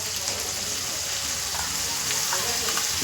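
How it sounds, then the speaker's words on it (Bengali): A spice masala of ginger, garlic, whole coriander, cumin, black pepper, chili powder and turmeric with tomato and onion fries in oil for khichuri, giving a short, steady, close sizzle. "এই মশলাটা খুব ভালো করে কষাতে হবে"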